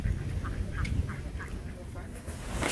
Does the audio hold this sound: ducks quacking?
yes